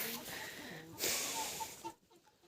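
Chickens clucking and a rooster's short calls, fairly close, mixed with some rustling and a voice in the background.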